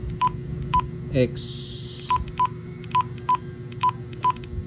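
Short electronic keypad beeps sound at a steady, evenly spaced rhythm as a Quansheng UV-5R Plus handheld radio is programmed by hand, close and clear, with a person talking quietly between presses.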